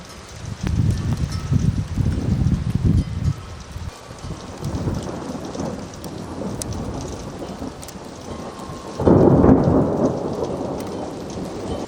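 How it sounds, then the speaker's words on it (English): Thunder snow storm rumbling outdoors, with low booming rolls building and fading, a heavy burst near the end, over steady precipitation hiss. "We have thunder snow"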